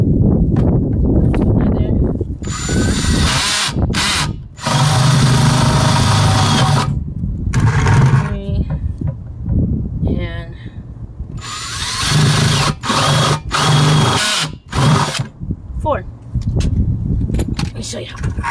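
A power drill bores holes into a garden container in several loud whirring bursts separated by pauses, close to the listener, with a person talking between the bursts.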